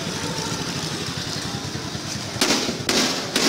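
A motorcycle passes in recorded street surveillance footage: a steady, close engine rumble runs throughout, broken near the end by a few sharp, loud broadband bangs.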